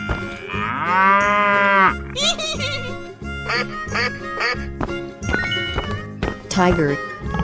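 A cow in a 3D animal sliding video game gives a long, loud moo near the start, followed by quacking and other game sounds over music, with a voice talking over it.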